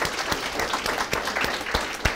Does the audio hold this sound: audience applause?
yes